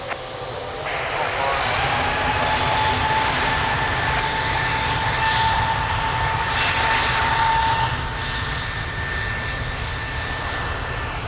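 An airliner in red Star Alliance livery at Lisbon Airport roars past with a loud sustained engine drone that swells in the middle and eases toward the end, heard close and alone.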